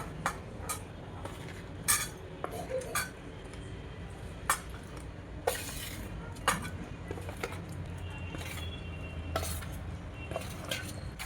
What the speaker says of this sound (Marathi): आता या पाकामध्ये सर्व मिक्स करून घ्यायचं.